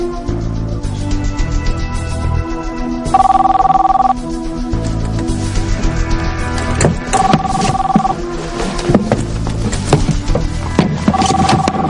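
A telephone rings in a soap opera scene, its repeated bursts of ringing sounding over a steady bed of background music with no talk.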